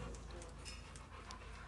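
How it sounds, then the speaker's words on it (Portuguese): Dog panting steadily and close, a continuous breathy rasp with no pauses, during a morning game of fetch with a ball. "olha que cão mal"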